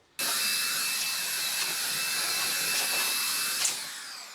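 Makita KS003G/KS004G 125mm compact cordless circular saw cutting through oak hardwood, a steady loud whining buzz for about three and a half seconds before winding down, with no talk.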